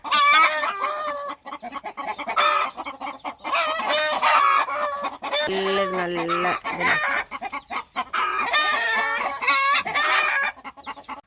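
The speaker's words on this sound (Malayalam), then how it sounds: "അതിരാവിലത്തെ കൂട്ടത്തെ ഒച്ചപ്പാടും ബഹളമൊക്കെ കഴിഞ്ഞിട്ട്" A flock of backyard poultry clucks and crows noisily inside a coop, with calls overlapping in busy bursts, and a person speaks briefly over the din.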